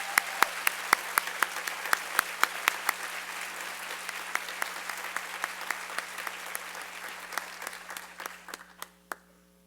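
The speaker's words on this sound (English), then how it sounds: "Let's give them one more round of applause as they exit the stage." Sparse applause from a ceremony audience, individual hand claps distinct and fairly close, rhythmic and gradually thinning out toward the end, with a steady low hum in the room.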